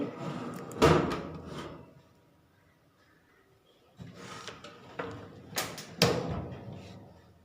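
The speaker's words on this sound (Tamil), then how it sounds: "இப்போ ஓடிஜியில் வச்சாச்சு." A baking tray goes into an OTG oven and the door shuts, with a few clanking thumps and a firm close, separated by a quiet pause, close by in a home kitchen.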